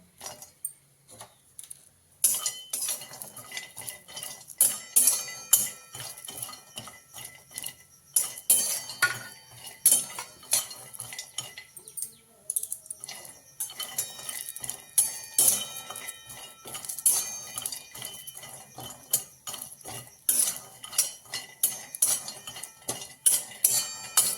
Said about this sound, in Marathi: त्याच्यात लसणाच्या पाकळ्या केलेल्या आहेत त्यासुद्धा आपण भाजून घेऊया चांगलं